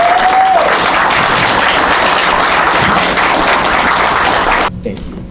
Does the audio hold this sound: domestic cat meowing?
no